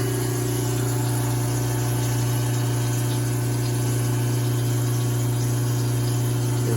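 Badger InSinkErator garbage disposal running with water, a steady near hum with a strong low drone and constant broadband rush, no pauses.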